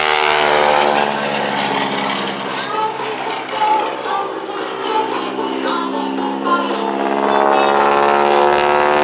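Big Red, a propeller aerobatic airplane weighing over a ton with a 32-foot wingspan, flying at the Duluth Air & Aviation Expo airshow; a loud, steady, droning engine roar with shifting pitch fills the whole clip.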